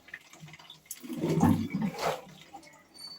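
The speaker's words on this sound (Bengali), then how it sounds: "আমি জল কটা ভরে নিই, সব বোতল কটা ফাঁকা হয়ে গেছে।" Tap water runs into empty drinking bottles in a home kitchen, a soft gurgling pour that swells in the middle and fades at the end, fairly quiet with no talk.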